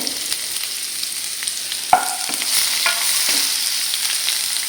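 Chopped onion frying in a pan gives a steady, close hiss and sizzle, with a few light clinks and stirring scrapes and no talking.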